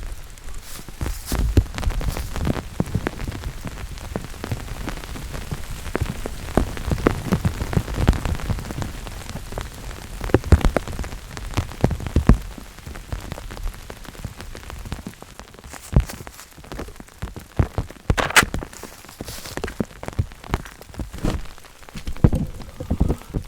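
Heavy rain pours down steadily, a dense hiss of drops drumming on surfaces nearby, with louder bursts of splashing and no voices.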